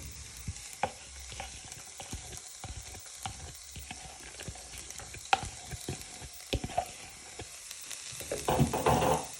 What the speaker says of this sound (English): you're going to place your onion and garlic in your frying pan